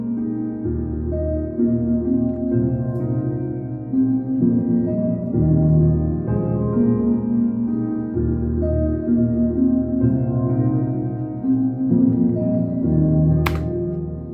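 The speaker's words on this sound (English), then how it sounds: "So I remember I started writing the piano, which kind of sounds like this." A self-composed piano part plays alone, a steady flow of mid-range chords and melody notes at moderate volume, with a brief sharp click near the end.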